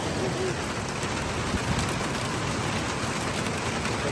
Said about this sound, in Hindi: लेकिन आज बारिश हो के रही है।